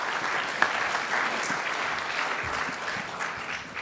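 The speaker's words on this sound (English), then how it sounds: "Round of applause." An audience applauds steadily after a presenter's talk at a medical or cancer-research conference session, a dense wash of clapping that holds evenly throughout with no voices over it.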